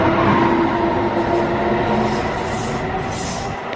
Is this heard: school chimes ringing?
no